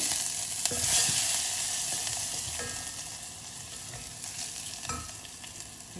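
Chopped garlic frying in oil for a Salem-style tomato sambar makes a steady sizzle with occasional stirring scrapes. The hiss is louder at first and eases off gradually.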